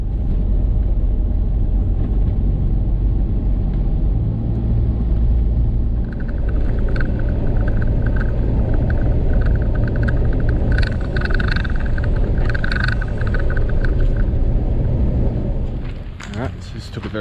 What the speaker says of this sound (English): Took a very scenic drive from Berry straight to Kangaroo Valley